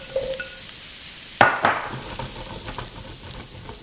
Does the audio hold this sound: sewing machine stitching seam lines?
no